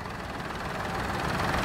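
A 2015 Peugeot 208 1.2 VTi with its 1.2-litre three-cylinder engine idles with a steady, broadband rumble that holds even and close throughout.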